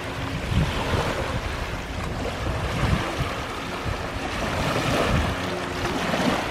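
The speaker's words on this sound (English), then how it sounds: "Listen to that water sloshing." Water sloshing against the shore by a waterside walkway lined with benches, a steady close wash of small waves with wind rumbling across the microphone, no voices.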